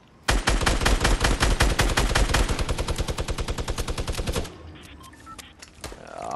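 Minigun fire in a video game: one continuous, very rapid stream of shots, loud and close, running several seconds before cutting off abruptly into quieter background noise.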